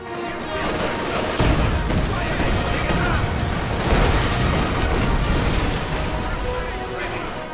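Explosives detonate in a World War II town battle in Company of Heroes 2, a heavy, sustained roar of booming blasts and rumbling debris with artillery-like thuds, loud and unbroken throughout.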